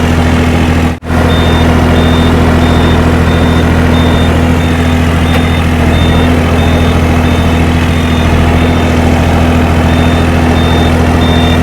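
Small modified tractor engine running at a steady idle, a loud, close, continuous diesel rumble with a constant drone and no talk.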